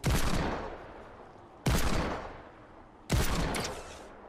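Three loud, sharp blasts of gunfire in the video game Fortnite, likely a hand cannon, spaced about a second and a half apart, each with a long decaying tail and no talk over them.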